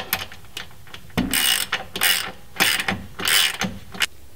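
A hand ratchet clicks in short bursts while tightening the bottom nut and washer on a Jeep shock absorber during installation, several quick ratcheting strokes separated by pauses, close and clear with no talking.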